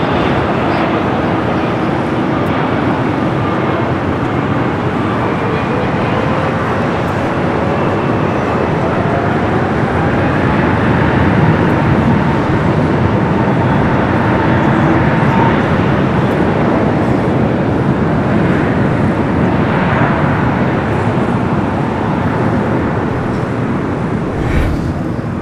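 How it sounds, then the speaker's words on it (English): An Air Tahiti Nui Dreamliner airliner taxis through its final turn toward the west gates at LAX, a steady broadband jet roar and whine holding at moderate distance throughout, with faint rising tonal whines drifting underneath. "Second Air Tahiti Nui Dreamliner now making that final turn, heading into the west gates."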